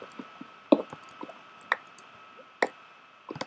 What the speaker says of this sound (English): I can hear lava, and that probably means there's a cave nearby